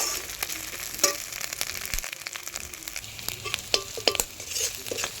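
Ginger paste hisses and crackles as it fries with reddish browned onions in a pan, a steady close sizzle broken by scattered spatula scrapes and taps, with no voices present.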